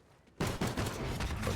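Automatic weapon fire in Call of Duty Ghosts starts abruptly as a loud, dense burst of rapid shots that continues to the end, close and dominant.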